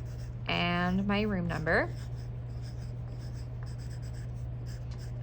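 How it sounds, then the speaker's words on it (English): Pen writing on a sheet of paper for a pop art lesson project, a faint steady scratching that runs under a brief spoken phrase and then continues alone. "On this piece of paper, I'm going to write, once again, my name"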